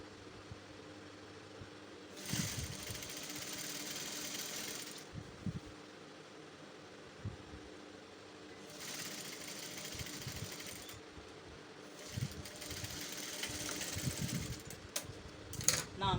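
A sewing machine runs a seam on a kimono shift dress in three separate bursts of close whirring stitching with quiet handling noises in the pauses between them.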